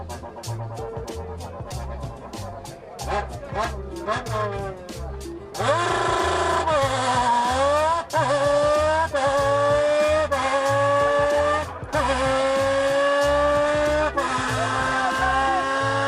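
A man imitates a rally car racing on a circuit using only a beer can, producing loud, wavering engine-like whines with repeated rising and falling sweeps, like revs and gear changes, performed alone without talk.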